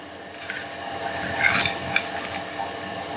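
A spoon stirring salt into falsa sharbat, with bright clinking and scraping against the glass or jug in short bursts, close and clear, with no talking.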